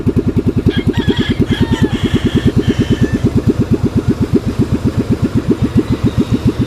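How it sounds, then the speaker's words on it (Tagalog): Boat motor engine running at idle during a morning engine test: loud, close, evenly spaced thumping pulses that hold a steady rhythm throughout. "Kailangan tuwing umaga tetestingin mo yung makina."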